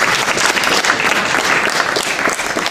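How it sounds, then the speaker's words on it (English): Audience applause at a photography installation opening ceremony, a dense steady wash of many hands clapping, loud and continuous throughout with no voices standing out. "So he gave an applause for this."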